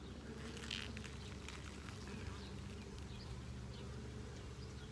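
Honey bees buzzing around hive frames during a nuc split, a steady low drone throughout with faint clicks and handling noise over it.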